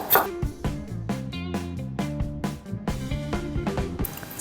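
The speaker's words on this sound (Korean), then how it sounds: "되도록 얇게 썰어서 준비해 주세요." Knife slicing paprika thinly on a cutting board for gochujang pancakes, a quick series of about a dozen crisp, regular chops close up, with no talking.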